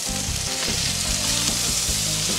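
A burger patty sizzles loudly and continuously on a KJ flat-top griddle, an even, dense frying hiss heard up close with no talking.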